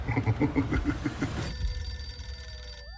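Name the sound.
telephone ringing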